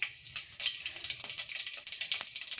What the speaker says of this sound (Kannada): ಸಾಸಿವೆ ಮತ್ತು ಜೀರಿಗೆ ಹಾಕ್ಕೊಂಡಿದ್ದೀನಿ ಒಗ್ಗರಣೆಗೆ.